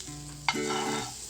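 Butter sizzles in a preheated pan for a potato-stuffed bread sandwich, a sharp hiss bursting in about halfway through and holding steady alongside a low background hum, with no talk.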